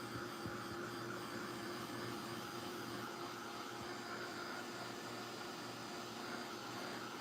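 A heat press runs while drying an inked shirt, giving a steady, loud, unbroken whooshing roar, like a blower, throughout with no talking.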